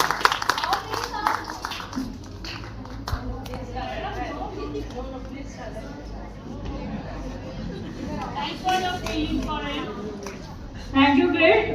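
Audience applause at a school farewell party, a crowd clapping steadily under murmured chatter and children's voices, swelling louder near the end.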